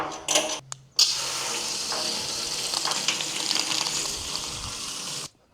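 Water gushes from a hose or tap into the tank of a homemade boom sprayer, a steady, hissing splash that starts after a brief clatter and stops abruptly near the end, close and fairly loud.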